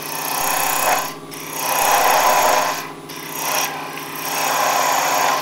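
A spindle gouge cuts a wooden bottle stopper spinning on a lathe, making a steady, loud scraping whir that swells and fades in passes, with brief gaps as the tool lifts away.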